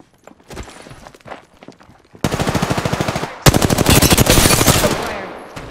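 Automatic weapon fire in the video game Apex Legends rattles out in two loud, rapid bursts of closely spaced shots, after a quieter stretch of lighter clicks and handling noise.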